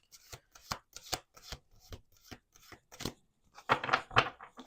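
Tarot cards being shuffled by hand in a steady run of crisp riffling bursts, close and moderately loud, with a denser flurry near the end.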